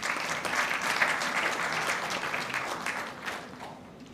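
Audience applause at a health board and council of ministers meeting, a steady wash of clapping from many hands filling the room for the full stretch, moderately loud with no voices over it.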